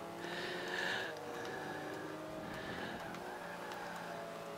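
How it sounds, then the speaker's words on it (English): Hard braking in the racing video game Forza 5, with a loud tire skid squealing over the engine for about a second before settling into a steady motor drone. "slammed on the brakes"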